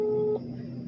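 A single steady electronic beep signals the start of voicemail recording on a phone call to a lawyer regulation office, then cuts off into a quiet line hum.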